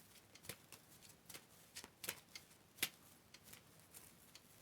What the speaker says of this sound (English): I'm just going to stop shuffling there and see what comes out